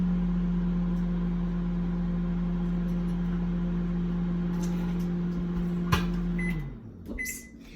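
A microwave oven hums steadily while heating butter, then stops with a click and a door opening near the end.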